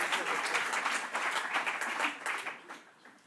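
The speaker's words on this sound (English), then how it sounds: "You can clap if you want" An audience at a food security event applauds, a lively mass of clapping hands that holds strong, then thins and fades away toward the end.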